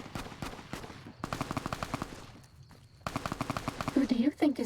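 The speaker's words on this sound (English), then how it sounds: "Where are we being shot at from?" Gunfire in Fallout New Vegas, with bursts of rapid repeated shots separated by short gaps, fairly loud and close, and talking voices mixed in toward the end.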